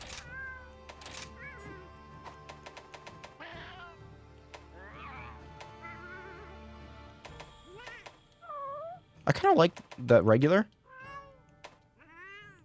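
Cat-like meowing from a Monster Hunter Rise character voice, several distinct rising and falling meows that grow louder and more strained near the end, mixed with game sounds and someone talking over them.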